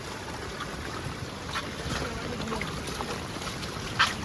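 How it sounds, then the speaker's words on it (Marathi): A river swollen and flooding after heavy village rain, heard as a steady broadband rush of water, constant and fairly near, with a faint brief knock near the end and no talking. "कारण नदीचा आवाज इथं येतोय"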